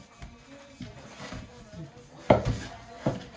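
A pot lid set down over dough with two sharp metallic clanks near the end, preceded by softer kitchen handling and clatter.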